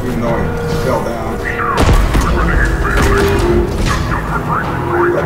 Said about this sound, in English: Gotta be a little bit careful in these explosions.